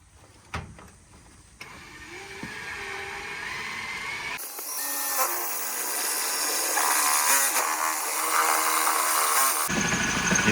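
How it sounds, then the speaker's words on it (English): A struggling power drill bores into a sheet of tin while fitting a patch where an old window rattler air conditioner was removed, a steady loud grinding whine that builds and holds for several seconds with no talking. "This drill's buggered."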